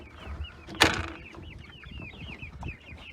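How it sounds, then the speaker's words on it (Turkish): Hens cluck and murmur in a steady, busy chatter in a coop, with one sharper squawk standing out near the start. "Tavuklarımız."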